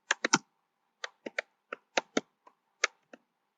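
A Python print statement is typed on a computer keyboard, a close run of crisp key clicks in short bursts with brief pauses, loud against silence.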